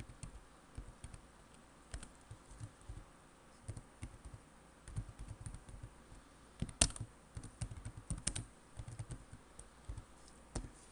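Quiet, uneven tapping of keys on a computer keyboard while typing in a word-processing document, soft scattered clicks in short bursts with a brief flurry near the middle.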